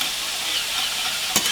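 A pot of Southern grits bubbling and spattering at a boil, a continuous close sizzling hiss with a brief sharp pop near the end, no talk.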